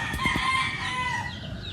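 A green-legged rooster on a farm crows close and loud in one drawn-out call over a faint farmyard background.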